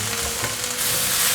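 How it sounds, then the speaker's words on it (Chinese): Shiitake mushrooms being stir-fried in a pan until soft, a continuous loud close sizzle with a faint scrape of tossing, swelling slightly louder toward the end. "继续翻炒，这个水汽可以让香菇变软。"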